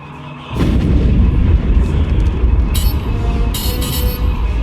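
Heavy booming starship cannon fire in a video game, Star Wars: The Old Republic, pounds continuously after a brief quiet start, a dense, loud barrage with rumbling low end and sharp bursts on top.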